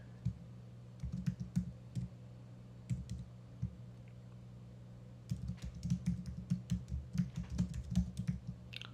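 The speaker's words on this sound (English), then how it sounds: "And then I will type out what I want to do." Quiet clicking of a computer keyboard being typed on nearby, in two bursts of uneven keystrokes separated by a short pause, over a low steady hum.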